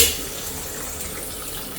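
Water pours and splashes into a pot of chicken curry with a soft, continuous rushing hiss after a brief initial splash, fairly quiet and close.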